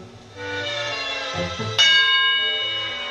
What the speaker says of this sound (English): The bell's gone.